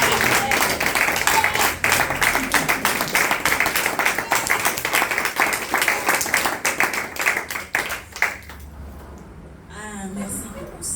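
A church congregation claps and cheers for Jesus Christ in dense, rapid applause that fades out near the end, with a voice speaking as it dies down.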